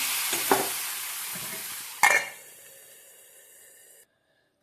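A hot tempering of mustard seeds, dried chilli and curry leaves hits pumpkin curry with a sharp burst of sizzling that quickly fades into a softer, dying crackle, followed by silence.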